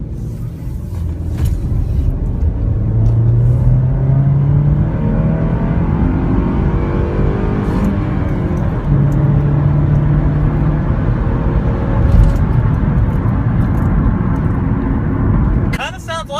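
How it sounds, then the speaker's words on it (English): The four-cylinder engine of a 2014 Chevy Equinox LT runs steadily just after starting, a loud, close, continuous rumble with a couple of brief rises in pitch. It ends abruptly. "show you all what this little four-banger engine sounds like in this vehicle when you crank her up"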